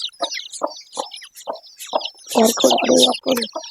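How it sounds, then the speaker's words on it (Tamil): Close clucking from a hen mixes with a run of high, thin peeping from chicks, the clucks growing louder and denser toward the end. "இந்த கோழி குஞ்சு மட்டும் பாருங்க ஃப்ரெண்ட்ஸ்"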